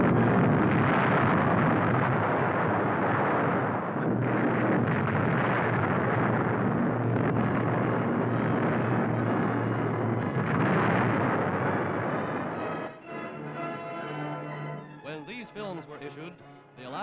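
A WWII newsreel about an Atlantic convoy shows bombs dropped on a suspected enemy raider, heard as a sustained, rumbling roar of explosions and churning water, with a dip partway through. A narrator talks over it, and the rumble fades near the end.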